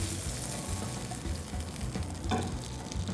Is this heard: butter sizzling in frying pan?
yes